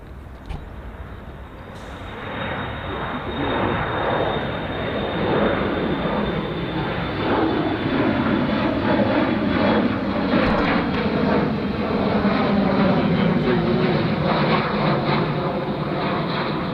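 A jet airliner takes off at O'Hare International Airport, its loud, sustained roar building within the first two seconds and holding steady, broad and close, with no speech over it.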